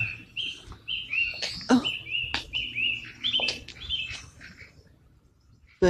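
A small bird in a village churchyard chirps and tweets in short, bright bursts, fairly close, against a quiet outdoor background with no talking.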